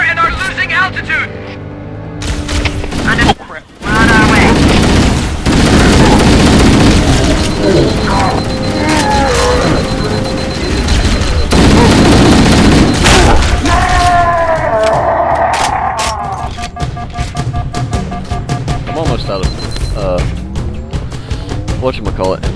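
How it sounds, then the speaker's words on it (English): Heavy gunfire, engine roar and booming explosions rumble through a dropship battle in Halo: CE Anniversary, with loud sustained blasts, sharp crackling shots and radio voices speaking over the chaos. "Dropship Bravo 22 taking enemy fire! Repeat, we are under heavy fire and are losing altitude!"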